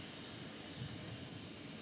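A helicopter hovers at a Chopper Dropper event, heard as a faint, steady, distant engine and rotor drone that stays even throughout.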